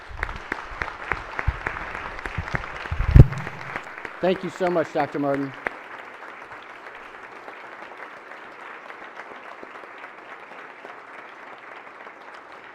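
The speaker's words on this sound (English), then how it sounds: "Colleagues, can we give her a round of applause?" Applause in a state Senate chamber during a floor session, a crowd clapping briefly and warmly before fading, with a woman giving thanks over the start and continued speech afterward.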